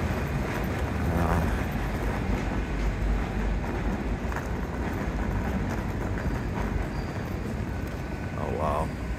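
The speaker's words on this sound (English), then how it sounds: "And there's another train behind it." A train rumbles steadily through Paddington station in London, a continuous loud roar with wind buffeting and faint voices around.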